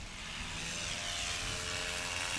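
Propeller engine of a STOL airplane named Warhorse at full power during its takeoff run at a short-takeoff competition, a steady loud drone with a rising tone, heard alone.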